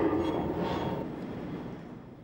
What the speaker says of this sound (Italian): I treni merci scendono al piano sotterraneo in cui vi sono tanti binari come sopra.